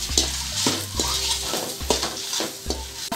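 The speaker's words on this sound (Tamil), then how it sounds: "இப்போ நம்ம எடுத்து வச்சுருக்கிற முட்டையை இதில் ஆட் பண்ணி நல்லா ஃப்ரை பண்ணிக்கலாம்" Eggs fry in oil in a pan with a constant sizzle while a spatula scrapes and stirs in regular strokes, close up and with no talk.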